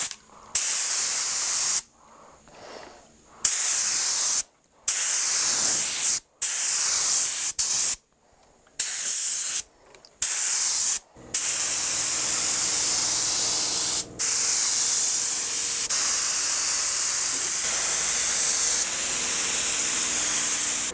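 Clear coat is sprayed from a paint can in a string of short hissing bursts, followed by one long, steady spray, close and loud with brief silences between the early passes.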